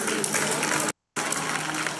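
Studio audience at a reality TV show finale claps in a dense, steady roar of applause, broken by a brief silent cut in the middle.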